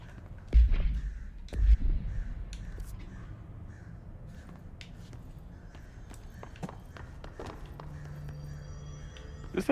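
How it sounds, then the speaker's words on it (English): Crows caw outside, a few sharp calls scattered over a quiet room with soft shuffling and low rumble, two louder thumps early on, the birds sounding somewhat distant. "the crows outside yelling at Chamomile"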